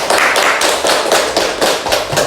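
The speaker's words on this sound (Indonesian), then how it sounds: "tepuk tangan untuk kita semua" A class claps hands together in a steady series of sharp, loud claps, about eight or nine evenly spaced slaps close by, with no talking over them.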